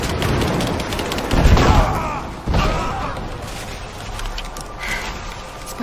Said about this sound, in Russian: Спасибо, Софья. Отличный выстрел